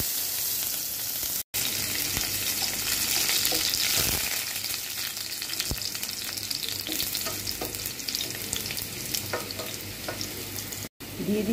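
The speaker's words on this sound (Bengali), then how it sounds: "এখন আমি কিছু সামান্য কিছু পেঁয়াজ ফ্রাই করে দিচ্ছি।" Onions fry in hot oil, a loud, dense crackling sizzle that carries on steadily at close range, with occasional stirring scrapes and no voices, cut by two brief gaps of silence.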